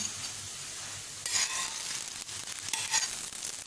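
A lachha paratha cooking on its second side on a hot pan, a soft, steady close sizzle with brief scraping or pressing sounds in bursts partway through.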